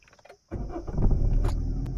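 A car engine starts with the ignition key as the clutch is pressed. After a moment of near silence the engine cranks and catches, then settles into a steady, close rumble.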